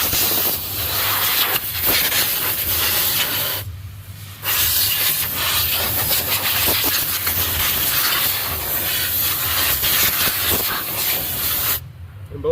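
Compressed air nozzle hissing in sharp, sustained blasts over a 6.0 Powerstroke diesel engine, close and loud, with two brief pauses between bursts.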